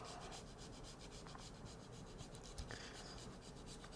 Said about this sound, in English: grab the Parmesan in your hand and start grating